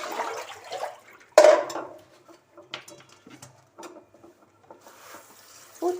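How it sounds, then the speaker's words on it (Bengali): Red amaranth leaves are swished and rinsed in water, with close splashes and sloshing bursts separated by short quiet gaps and occasional light clatter. "এটা 3বার হচ্ছে ধোয়া"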